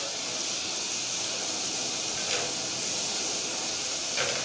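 Garlic and ginger hit hot oil with onions frying to light brown, giving a steady, even sizzle and hiss that runs throughout, with two faint brief crackles standing out.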